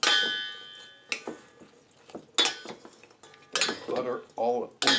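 Cubed French bread is stirred with melted butter in a baking dish, giving sharp intermittent clinks and clangs of a utensil against the dish, with quieter scraping between them.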